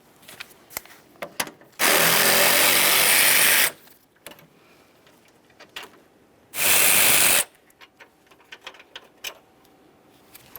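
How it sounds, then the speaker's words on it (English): A power tool spins out 10 mm radiator bolts on a 1998-2011 Ford Ranger 2.3L, two loud close bursts of about two and one second, separated by quieter clicks and handling noises. "Now it's time to remove the two 10 millimeter headed bolts that hold the radiator to the body of your vehicle."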